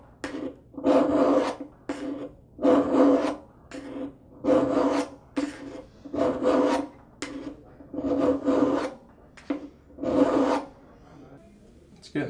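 A knife blade is drawn across a sharpening stone to form a bevel, about a dozen rasping strokes in an uneven rhythm, close and clear with short pauses between.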